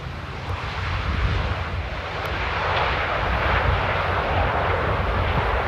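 An airliner landing at Amsterdam Airport, a loud continuous jet roar heard from nearby that holds steady and swells slightly toward the end.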